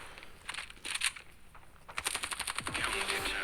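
Rapid automatic gunfire from the mobile shooter game Standoff 2, bursts of shots that grow into a steady rattling volley, fairly close and with no talk over it.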